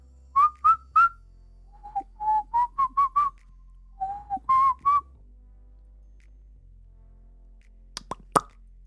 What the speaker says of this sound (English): Do you whistle?